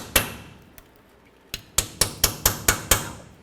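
A rubber mallet taps on the rusty brake backing plate bolts of a 1999-2007 Chevy Silverado, a few scattered knocks then a steady run of about six sharp, close taps with no talk.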